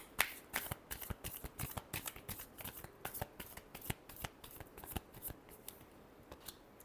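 A deck of tarot cards being shuffled by hand: a fast, rhythmic series of crisp flicks and slaps, close and steady for several seconds, with no talk.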